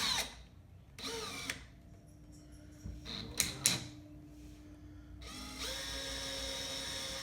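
Power drill fitted with a 1/16 drill bit pre-drilling into a cabinet, whirring in several short bursts with pauses and rattles between, then running steadily near the end.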